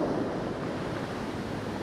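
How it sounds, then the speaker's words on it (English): Sea waves breaking over the groins along the Jurassic Coast: a steady, broad roar of surf mixed with wind buffeting the microphone, continuous and fairly loud with no voices. "you can just see around here the waves breaking"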